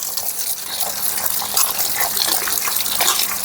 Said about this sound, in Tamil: காளான் இந்த மாதிரி நல்லா கட் பண்ணி நல்லா கழுவி எடுத்துக்கணும்.